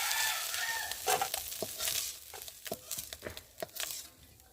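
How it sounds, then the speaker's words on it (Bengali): Small river fish frying in oil in a kadai pan give a steady close sizzle, broken by sharp scraping clicks and knocks of a spatula turning and lifting the pieces. "আর এখন আমি একে একে মাছগুলোকে ভেজে নিয়ে তো দেখো বন্ধুরা, মাছগুলো ভাজা হয়ে গেছে"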